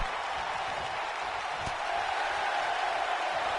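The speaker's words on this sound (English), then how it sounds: "Listen to this crowd." A wrestling crowd at an APEX Wrestling event roars and applauds in a steady, dense wash of cheering that swells slightly toward the end, with one sharp thump partway through.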